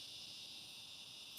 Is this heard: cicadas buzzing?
yes